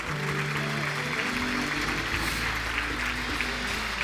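Church congregation applause, a steady wash of clapping under a low hum, continuous and moderately loud with no clear individual claps.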